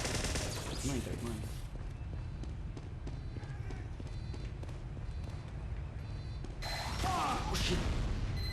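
Rapid gunfire from a sentry turret in the video game Team Fortress 2, a dense sustained rattle of shots with chaotic game sounds and occasional voices, growing louder near the end.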